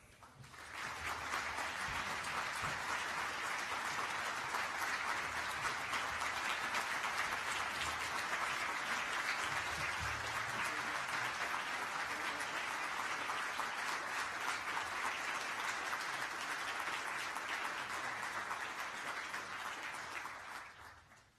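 A large audience applauds to welcome Vice President Mike Pence at a religious freedom ministerial, with dense, sustained clapping that swells in, holds steady for about twenty seconds, and then fades.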